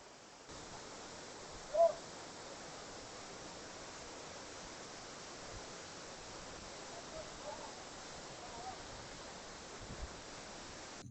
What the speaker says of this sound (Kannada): ತುಂಬ ಫೋರ್ಸಾಗಿ ಬರ್ತಾ ಇದೆ ನೀರು.